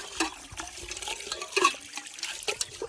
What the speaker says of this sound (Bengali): এখন ধোয়া হচ্ছে আমাদের মাংসটা